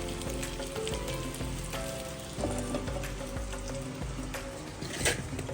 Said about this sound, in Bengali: আর এদিকে হচ্ছে সেহরি টাইমের জন্য মাছ ভাজি করছিলাম।